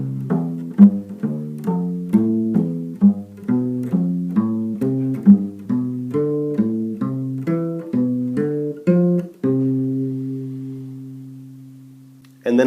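A bass guitar plays an ascending diatonic triad chord progression, each chord picked out as a steady run of plucked notes that climbs step by step, ending on a long sustained chord and then a brief final attack.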